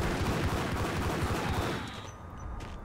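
In a Max Payne shotgun fight, dense rapid gunfire rattles loudly for about two seconds, then fades into a quieter echoing tail.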